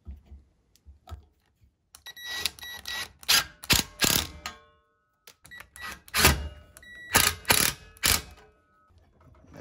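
Stainless screws are driven into a wooden shovel handle, heard as a series of short, ratcheting mechanical bursts with brief gaps between them, close and clear.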